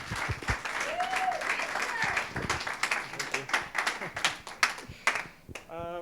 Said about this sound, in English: We need to keep that warm round of applause going as we welcome Richard Harrison to the front of the room.